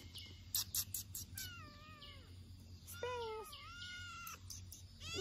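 Pet cat meowing up close, several drawn-out and rising meows with short gaps between them, plus a few sharp clicks and knocks early on, fairly quiet overall.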